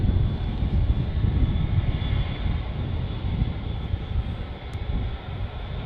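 An Emirates Airbus A380 in the Dubai 2020 special livery roars steadily at an airport, its engines giving a broad, loud, sustained rumble with no break.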